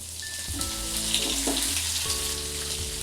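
Garlic dropped into hot oil with cumin and mustard seeds, giving a loud, continuous sizzle and crackle close by, with faint tonal kitchen hum in the background.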